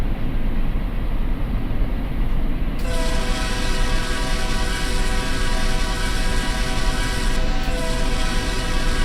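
A train rumbles past in the Run 8 simulator on a desert route, loud and continuous, with a sustained horn blast joining partway through over the steady rolling roar of wheels on rail.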